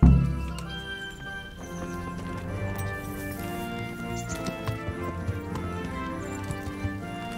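Horse hooves clip-clop as riders set off in Kingdom Come: Deliverance, a steady run of soft thuds buried under continuous music, with no voices.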